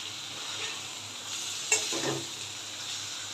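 Masala sautéing in a pan for a dal made with a large catla fish head, with a steady soft sizzle and one sharp scrape of a spoon stirring near the middle, no talk.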